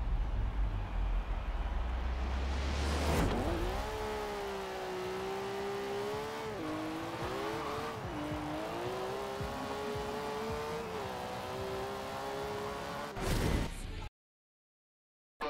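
A TVR Cerbera GT1 in Forza Horizon 4 launches down a quarter-mile run, its engine roaring loud and close as it climbs through the gears, with repeated rises in pitch and brief dips at each shift, then sudden silence.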